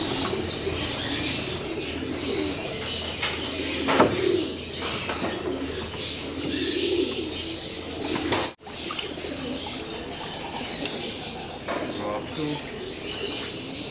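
Pet pigeons in a loft, kept as stock birds, coo and rustle with bursts of wing flapping, close and steady throughout, with someone talking over them.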